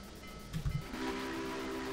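Steam whistle of the Union Pacific 844 locomotive in Train Simulator 2018: a brief rumble, then a loud, sustained, steady whistle tone over constant hiss, with no voices.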